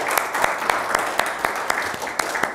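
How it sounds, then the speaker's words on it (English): A church congregation claps together during a Sunday morning service, dense steady applause with a few sharper individual claps standing out, fairly close and loud throughout. "can we just thank God and give a clap to God"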